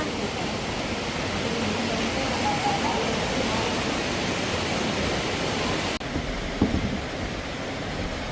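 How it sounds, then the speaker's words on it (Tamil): Water pours down from high above at a waterfall in Switzerland, a loud, steady, broad rushing roar that stays constant throughout, with a brief thump near the end. "அதை விட அங்கே மேலே இருந்து தண்ணி அப்படியே வருது பாருங்க"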